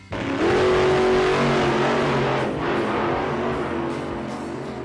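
Monster Jam monster trucks roar off in a race, engines revving up sharply to a loud sustained drone that stays close and powerful before easing slightly, with no voices.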